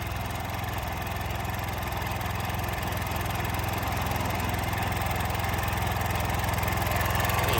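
A soil-throwing machine's engine runs fast and steady, a loud, even mechanical drone with a rough low rumble that holds without a break throughout.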